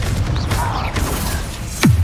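A Bombarda blasting spell explodes in Hogwarts Legacy amid a busy combat mix, with a sharp sweeping blast near the end over a steady background rumble.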